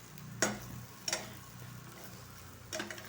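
Elephant foot yam fries in a pan with a low sizzle, broken by three sharp scraping clacks of a spatula stirring against the pan, close and fairly quiet.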